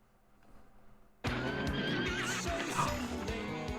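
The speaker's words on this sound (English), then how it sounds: "A horse pilots a robot horse for a robot to ride." A horse in the video game Sonic Racing Crossworlds lets out a loud neigh and whinny that bursts in suddenly after a quiet start, with clip-clopping hooves behind it. There is no talking.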